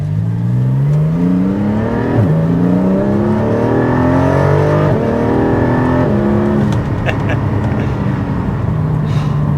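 Porsche 718 Cayman GT4 accelerating hard from low speed, heard from inside: a loud engine note climbing through the revs, broken by quick gear changes and repeated rising sweeps, with occupants talking over it.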